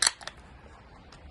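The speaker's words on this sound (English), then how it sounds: "Crack her open." A can of Star Beast Vintage 2021 imperial stout cracked open: a sharp, close tab snap with a quick hiss, followed by a second smaller click and faint fizz, with no talking.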